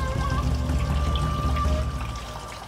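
Water pouring steadily from the nozzle of a Japanese shrine purification fountain, a continuous close splashing trickle with faint background hum, no talk.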